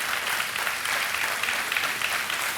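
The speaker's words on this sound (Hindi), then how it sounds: "तालियां बजती रहनी चाहिए" Studio audience applauding on the KBC (Kaun Banega Crorepati) game show set, a dense, steady wash of clapping that holds at full strength without a break.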